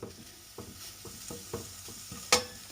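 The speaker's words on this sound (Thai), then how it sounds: "ใส่ในหม้อนะจ๊ะ พัดให้เขาหอมจ้ะ" Curry paste being stir-fried in a pot, with a faint sizzle under regular scraping strokes of a spatula about every half second, and one brighter clack near the end.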